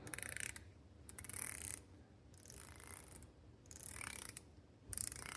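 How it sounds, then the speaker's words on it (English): The rotating bezel of a Mako 2 dive watch is turned close to a microphone, giving bursts of rapid fine ratcheting clicks separated by brief pauses. "I do use the rotating bezel, so here's a glimpse at that."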